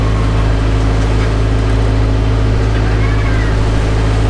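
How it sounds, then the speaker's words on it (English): A sailboat's motor drones loudly and steadily while motor sailing through big waves among islands, a constant rumble mixed with rushing water and wind across the whole stretch. "We motor sailed out through the maze of islands"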